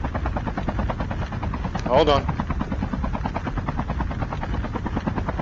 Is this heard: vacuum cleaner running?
no